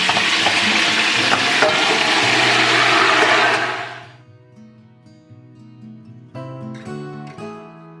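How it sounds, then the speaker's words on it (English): Turkey pieces fry in a pressure cooker with loud, dense sizzling and crackling that stops abruptly partway through, followed by clanking of metal cookware. "It's really loud because it's frying and crackling."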